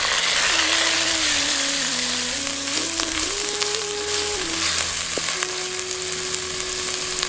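Ground garlic and small shallots frying in oil give a continuous, fairly loud sizzle, with a wavering mechanical hum running underneath.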